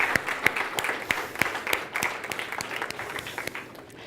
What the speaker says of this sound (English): Okay, thank you for this clap.